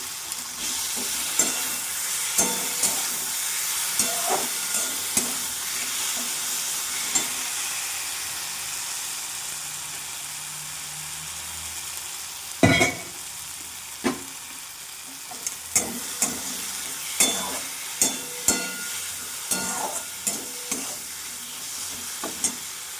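Poppy seed paste with chili powder fries and is stirred in a pan. A steady soft sizzle runs throughout, punctuated by irregular clicks and scrapes of the spoon against the pan.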